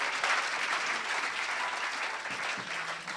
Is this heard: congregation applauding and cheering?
yes